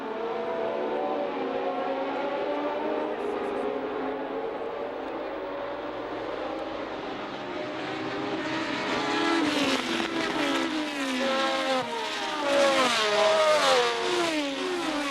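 1972 Formula 1 cars, including Jackie Stewart's Tyrrell and Denny Hulme's McLaren, scream past on track during a race, high-pitched engine notes rising and falling as several cars sweep by in quick succession, growing louder toward the end.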